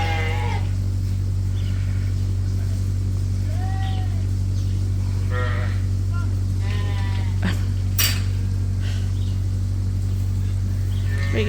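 Sheep and lambs bleat repeatedly inside a barn on a Canadian sheep farm, several calls near and some farther off over a steady ventilation hum, with a person talking at times.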